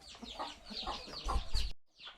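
Chickens clucking close by in a short burst of soft, repeated clucks, then a brief pause and one more cluck.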